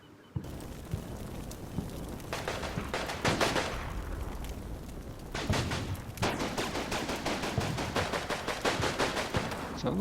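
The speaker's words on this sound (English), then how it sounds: "There's a lot of firing going back and forth" Sustained gunfire exchange in the Combat Mission wargame: dense, overlapping rifle and machine-gun bursts crackle back and forth for the full stretch, with heavier booming reports rising and falling at a steady distance and no talk.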